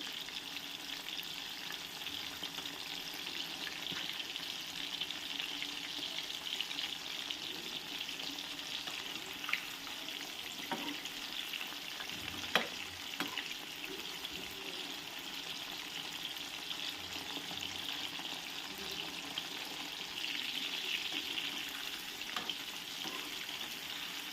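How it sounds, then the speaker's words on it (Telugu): Chicken 65 frying in a pan, a constant faint hiss of oil with a few soft clicks and clinks scattered through, heard close but quiet, with no talk. "ఇంకొక రెండు నిమిషాలు అయితే ఫ్రై అవ్వనివ్వాలి"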